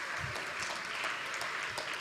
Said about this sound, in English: A round of applause for Akansha.